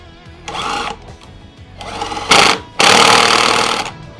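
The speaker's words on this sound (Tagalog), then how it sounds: "gagamitin na natin yung impact wrench para mahugot natin to" An impact wrench loosening the rusted magneto nut on a Yamaha Mio Gear 125 scooter, with three loud, close bursts of buzzing hammering, the last one longest, separated by short pauses.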